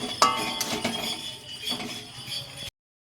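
Shrimp and bean curry with a little sugar stirred in a pan, giving a brief clink of a utensil against metal followed by soft scraping stirs, close and without speech.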